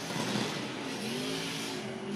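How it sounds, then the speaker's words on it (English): A big turbocharged BMW drift car at the FIA Intercontinental Drifting Cup in Odaiba, Tokyo, its engine roaring loud and steady with a rising whine and turbo noise, close and alone. "Big, huge turbo making a lot of noise in this BMW"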